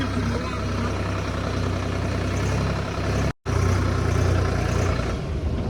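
A small tractor's engine runs steadily at a low, rumbling idle while reversing on a farm, loud and close, with a brief cut in the middle before the same droning continues.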